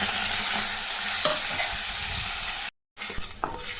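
Ground onion and tomato paste for a thin roadside-style chutney sizzles loudly in a pan, with broadband frying hiss and a few stirring scrapes, then a brief cut to silence before the sizzle resumes.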